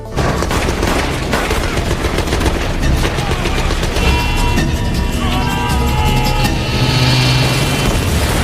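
Rapid bursts of machine-gun fire rake a hijacked tram during a film street ambush, loud and continuous with dense overlapping shots, rumbling impacts and low booms throughout.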